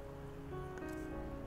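Steady hiss of rainfall in a VR video game, pattering on a surface, a continuous even wash of drops with a faint tonal hum underneath and no voices.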